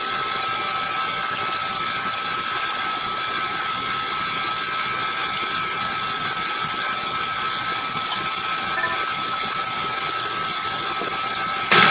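Electric mixer beating a cheese ball mixture in a bowl, a continuous high whirring motor drone held steady throughout, with no talking.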